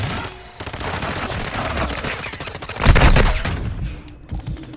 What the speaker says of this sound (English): Never tried shooting him from that distance, like, as if it's gonna do anything